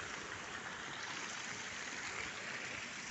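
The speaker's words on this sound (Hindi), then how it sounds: "ये रहा पूरा पानी बह रहा है इधर से और फिर इधर जा रहा है" Water flows steadily near a village waterfall in India, a constant broad rushing hiss with no breaks, moderately loud and close, with no voices over it.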